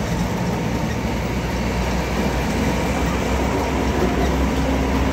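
An MRT train passes nearby with a continuous rumbling roar that holds steady for a few seconds.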